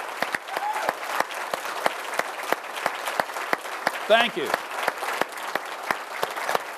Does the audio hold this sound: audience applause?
yes